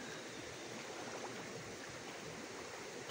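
River water runs steadily through a shallow natural pool fed by a small diversion channel, a continuous soft rushing close by with no talk over it.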